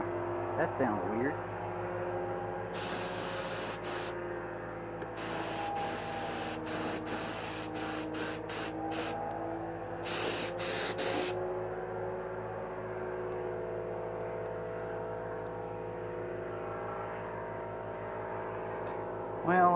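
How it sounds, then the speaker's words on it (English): Bursts of hissing spray from a paint gun spraying primer on a Saturn rear quarter panel, several short and long blasts, over a steady humming compressor and background noise. "this gun's spraying that primer okay"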